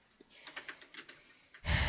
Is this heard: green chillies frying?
no